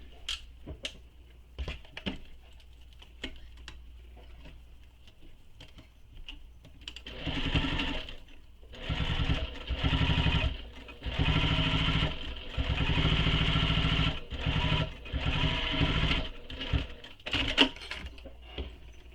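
A sewing machine top stitching a tote bag, running in several bursts of rapid mechanical whirring separated by short pauses and small clicks, close and clear with no talking.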